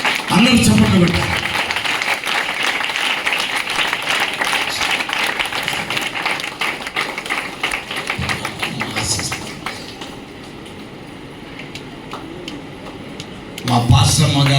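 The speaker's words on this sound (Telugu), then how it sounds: "అందరూ చప్పట్లు కొట్టారు" A church audience applauds together at a small felicitation for a bishop, a dense patter of clapping that thins out near the end, with voices heard under it.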